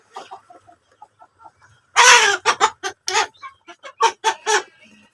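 Tiger chickens clucking while feeding on moringa leaves, with soft low calls at first, then a loud close squawk followed by a quick run of sharp, rhythmic clucks.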